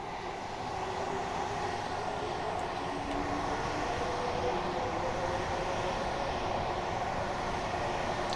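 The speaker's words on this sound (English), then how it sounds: "Here comes another train already." A Class 378 electric train rolls along the Brighton Main Line near Croydon in Train Simulator Classic, giving a steady, even rumble with a faint whine that holds at a constant level throughout.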